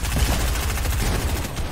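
Rapid submachine gun fire in competitive Fortnite, a dense continuous rattle of shots at a steady rhythm throughout, fairly loud and close with no talk over it.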